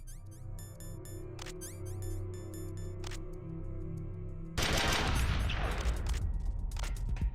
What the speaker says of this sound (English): Three shots probably weren't necessary, but it sure sped things along